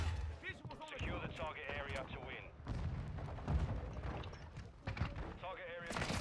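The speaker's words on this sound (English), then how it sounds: "Oh my lord, this shotgun shit, yo." Shotgun blasts in the Call of Duty video game fire as dense, booming bursts under a steady stream of excited male chatter from players throughout.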